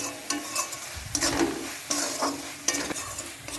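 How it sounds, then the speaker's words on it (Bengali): Chicken curry spice paste sizzles and fries in hot oil while a spoon stirs it in bursts, close and steady. "দেখো মশলাটা যখন ভাজা হয়ে যাবে"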